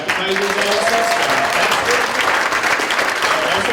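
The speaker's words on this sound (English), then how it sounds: "a big round of applause for the Black and White for the amazing appetizers" Steady, loud applause from an arts council event audience, a thick wash of many clapping hands that holds evenly throughout, with faint voices underneath.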